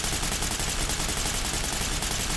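Sustained rapid automatic rifle fire, hip-fired in the tactical shooter game Ready or Not, a loud, dense, unbroken stream of shots close up with no talk.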